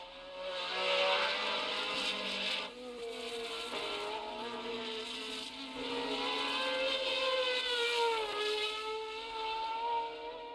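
Cosworth-powered 1970 Formula One race cars, including a Lotus 49, scream past in a sustained high-pitched engine whine that rises and falls in pitch as gears change, heard from some distance for about ten seconds.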